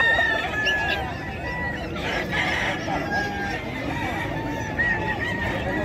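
Gamecocks at a Bocaue rooster auction crow and cluck, with several loud nearby crows rising over a busy background of birds and murmuring people.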